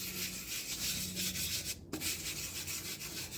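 Gasket residue is scrubbed from an engine block in a circular motion, giving a steady, close, abrasive rubbing sound with a brief pause partway through.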